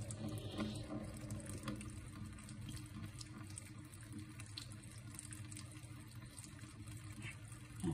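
Water runs steadily from a faucet, a low continuous splashing flow heard fairly close throughout.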